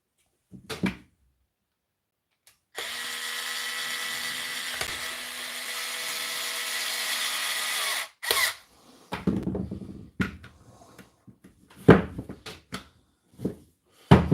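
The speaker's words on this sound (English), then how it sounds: "only a matter of time before I put a 12-volt battery onto this 4-volt Draper screwdriver with those 4 newton meters of torque" A 4-volt Draper cordless screwdriver overpowered by a 12-volt battery whirs in one steady, fairly loud run of about five seconds, followed by clicks and handling knocks.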